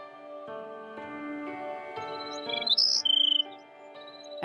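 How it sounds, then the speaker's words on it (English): Birds chirp over a layered tonal background, with short sharp tweets and trills clustering near the middle, moderately loud and close, no talking. "I love a bird."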